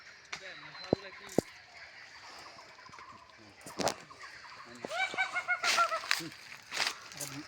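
Jungle fowl calling near a house, several honking, clucking cries that start sparse and grow into a busy cluster of calls toward the end, with people talking over them.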